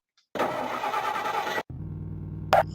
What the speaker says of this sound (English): it's got a realistic car kind of engine sound